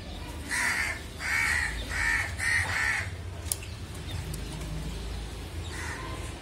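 Crows caw in a rapid series of about five harsh calls in the first three seconds, then a single fainter call near the end, heard outdoors on a village terrace over a low steady background rumble.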